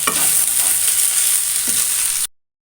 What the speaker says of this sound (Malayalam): ഇനി ഇത് നന്നായിട്ട് നമുക്ക് മിക്സ് ചെയ്തെടുക്കണം